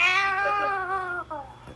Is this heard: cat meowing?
yes